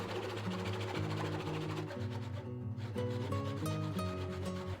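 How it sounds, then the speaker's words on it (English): Fret slots being cut into a guitar fretboard with a saw guided by a slotting jig, close rhythmic rasping strokes running continuously over steady background music. "This allows you to cut the fret slots perfectly spaced out"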